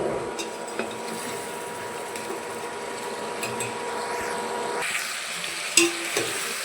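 Masala being stirred in a pan for egg chicken sambar, a soft continuous sizzle with scraping and light clinks of the spoon against the pan, close and steady, with a sharper scrape near the end.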